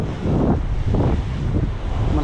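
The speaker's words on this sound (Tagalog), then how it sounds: "Malakas ang hangin." Strong wind on the seashore at an Oman fishing spot roars across the microphone in a steady, loud buffeting rumble, with faint surf beneath it and no voices.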